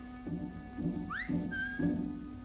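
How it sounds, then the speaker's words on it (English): A person whistles as a signal on a film set: short rising and sliding whistle tones over a steady low hum and muffled background movement, heard alone without talk. "When Jimmy was ready, he'd whistle."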